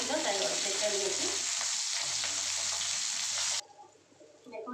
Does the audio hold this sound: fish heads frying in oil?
yes